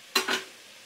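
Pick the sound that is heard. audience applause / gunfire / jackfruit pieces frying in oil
jackfruit pieces frying in oil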